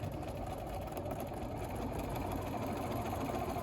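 Sewing machine stitching a quilt block during a live nine-patch demo, a fast, steady mechanical whir and hum, close and continuous, with no talk over it.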